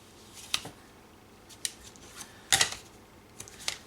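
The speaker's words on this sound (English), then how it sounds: "put some double-sided tape on the edge here" Double-sided tape is peeled and pressed along the edge of a watercolour palette, giving several short, sharp crackling rips spread out over a few seconds, close and fairly loud in a quiet room.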